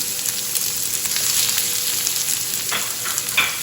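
Half an onion hits a hot pot and fries with a loud, steady sizzle, a few stirring scrapes near the end, and no talking.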